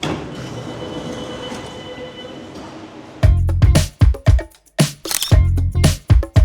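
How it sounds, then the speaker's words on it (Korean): An Airport Railroad subway train bound for Incheon Airport, first a steady rumbling hum inside the car, then loud, close bursts of clattering wheels and squealing as it runs, with no talking. "인천공항으로 가는 공항철도 시작해 보도록 하겠습니다"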